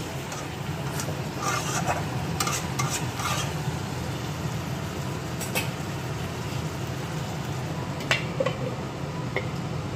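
Chicken kosha being stir-fried in a pan gives a continuous low sizzle, with scattered clinks and scrapes of a spatula against the pan at a moderate distance and no talking.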